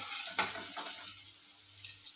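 A soft, low sizzle from garlic-chili paste cooking gently over low heat in a pan, with a couple of brief spoon scrapes as it is stirred.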